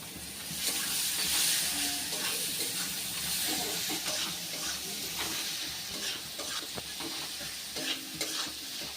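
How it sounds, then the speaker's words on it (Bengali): Chopped onion frying in hot oil in a pan for Bengali fish-head muri ghonto, a steady close sizzle and hiss with scraping stirs and occasional ticks, running unbroken throughout. "এবার এর মধ্যে দিয়ে দিচ্ছি কুচি করে কাটা পেঁয়াজ। পেঁয়াজটা একটু লাল লাল করে ভেজে নিতে হবে।"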